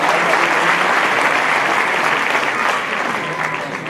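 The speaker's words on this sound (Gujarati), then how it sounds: "એમને જોરદાર તાળીના ગળાથી વધાવો." A live audience at a Gujarati folk music show in Leicester breaks into loud, dense applause that holds steady and then eases slightly toward the end, with no voices over it.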